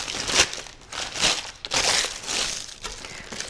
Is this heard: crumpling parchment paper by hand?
yes